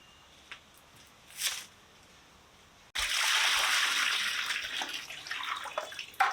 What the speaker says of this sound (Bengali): ছিলে নিলাম বড় বড় টুকরা করেছি এবার ধুয়ে নেব